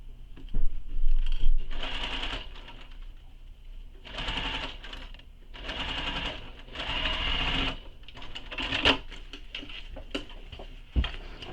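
Sewing machine stitching a bag's lining and exterior together, running in several bursts of rapid mechanical whirring and needle chatter, separated by brief pauses and handling clicks, loud and close.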